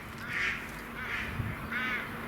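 Ducks outdoors quack in three distinct bursts of nasal calls, moderately near, over a low steady background hum.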